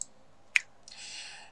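A single sharp computer mouse click closes a trade on the cTrader web trading platform, crisp and close, followed by a soft steady hiss.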